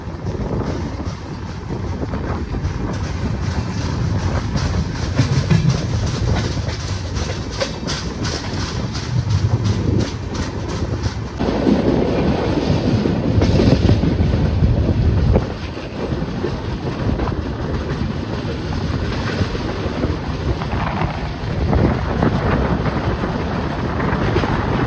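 Kondaveedu Express passenger train rolling along after pulling out of Hindupur, a continuous loud rumble with rattling cars, rail clatter and wind buffeting the microphone, heard from on board with no talk.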